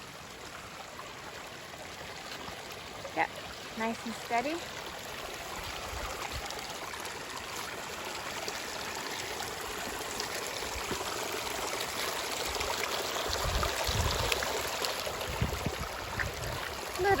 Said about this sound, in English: Got another creek crossing.